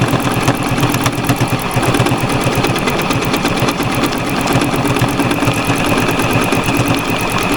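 A new sewing machine runs steadily while stitching fabric, giving a loud, continuous rapid needle chatter with an even mechanical hum and no pauses.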